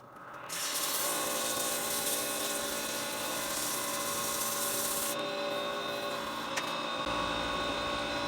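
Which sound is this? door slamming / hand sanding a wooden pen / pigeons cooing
hand sanding a wooden pen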